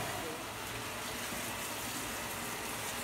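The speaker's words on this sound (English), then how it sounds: "Just rinsing the beans down into the chili later on" Canned beans rinsed under a running kitchen faucet, a steady broadband gush of water pouring continuously at close range with no pauses.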